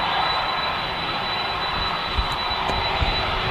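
An EasyJet airliner at Manchester Airport gives off a steady, moderately distant jet engine roar with a constant high whine. It holds even throughout, with no voices.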